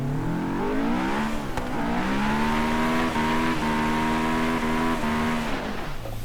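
In Forza Horizon 3, an older rear-wheel-drive Honda car's engine revs and holds a sustained high whine, rising and settling with small gear shifts, loud and continuous with no talk.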